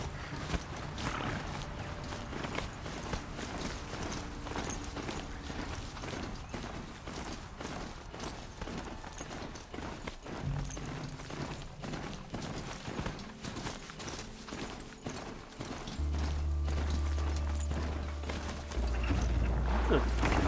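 A machine horse mount in Horizon Zero Dawn gallops with steady rhythmic clip-clop hoofbeats and faint mechanical clanks, fairly quiet, with some talking over it.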